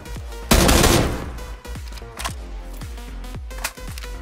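PUBG gunfire crackles in a loud, close burst of shots, followed by a rapid string of sharper single reports spaced roughly evenly.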